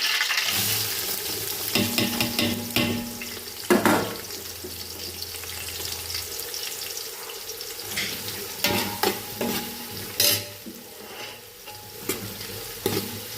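Onions sizzle steadily in hot oil for chicken biryani, with repeated scraping stirs and a few sharper clanks of the spoon against the pan, close and fairly loud with no one talking.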